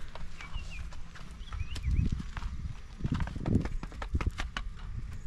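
Steady clip-clop of draft horse hooves on hard ground, moderately close, with a few soft snorts and faint birdsong in the background.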